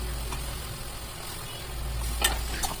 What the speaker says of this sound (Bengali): আলুগুলো দেওয়ার পর আবার একটু নেড়ে চেড়ে নিচ্ছি